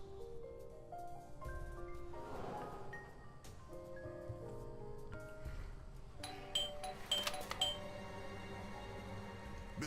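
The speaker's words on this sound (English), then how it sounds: "I thought I should use the doorbell so I wouldn't startle you." A doorbell chime rings in the video game Blues and Bullets, layered over sustained music tones and ambient game sound, with a brighter cluster of chiming notes late in the passage.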